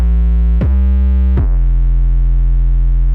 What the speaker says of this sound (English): I've loaded a sample from Media Bay that's an 808 bass, and it sounds like this.